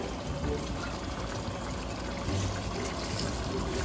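Water is poured into a pot of kabab pulao, a soft continuous splashing trickle that stays steady and close for a few seconds.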